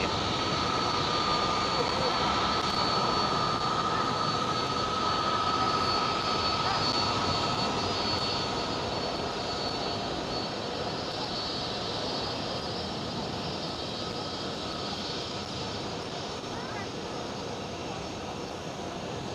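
An Aer Lingus airliner in rugby livery at Schiphol airport gives off a steady, broad jet roar that slowly fades, with faint voices underneath.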